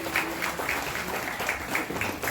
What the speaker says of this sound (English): So just give a round of applause to yourself for coming out today and showing up.